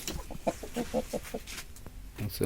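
Hill chickens cluck in a quick run of short repeated notes, fairly close, with a busy background and a few other fowl sounds mixed in.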